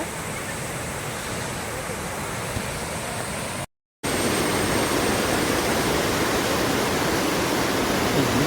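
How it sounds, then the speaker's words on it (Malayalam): Meenmutti waterfall pours in a steady, dense roar of falling water, loud and close, with no voices and one brief cut to silence partway through. "അതുപോലെ തന്നെ വെള്ളച്ചാട്ടം ഭയങ്കര ഭംഗിയാണ്"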